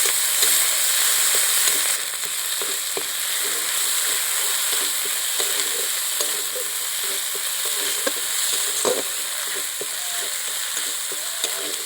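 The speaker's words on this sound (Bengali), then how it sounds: "এবার খুব ভালো করে নাড়তে থাকবে যাতে আদা রসুনের কাঁচা গন্ধটা কেটে যায়।" Ginger and garlic paste sizzles steadily in a hot pan while a spoon stirs it, with soft scraping taps scattered through the continuous close frying hiss and no talking.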